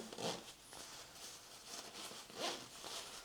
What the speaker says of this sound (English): I can now close the zipper from the back side.